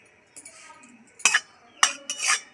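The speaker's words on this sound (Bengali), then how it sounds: "তেলের মধ্যে একটু নেড়ে নেব।" A utensil stirs ghee and cracked cardamom pods in a hot pan, making a few sharp metallic scrapes and clinks against the metal with quiet gaps between them. The sounds are close and there is no talking.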